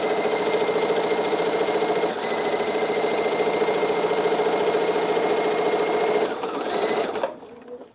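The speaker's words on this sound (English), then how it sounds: "I just wanna sew 1/4 of an inch straight across this." A sewing machine runs a straight seam a quarter inch in from the edge of fabric for a border stripe apron, humming with a loud, steady, fast mechanical chatter close by, then slowing and stopping near the end.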